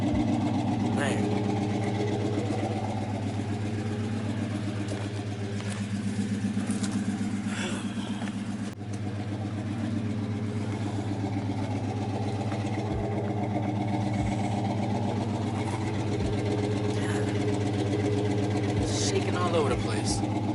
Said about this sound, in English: Like in park and in neutral, it sounds alright, but in drive and reverse, when you put load on the engine, it sounds horrible.